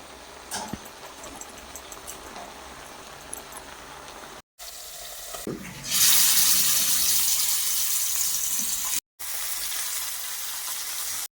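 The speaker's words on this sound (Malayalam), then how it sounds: "ഇനി നമുക്ക് ഇതിലേക്ക് നമ്മൾ അരച്ചു വെച്ചിരുന്ന അരപ്പിടാം" Ground spice paste frying in a pan, a steady close hiss of sizzling that swells loud once the paste goes in, with brief gaps and faint stirring.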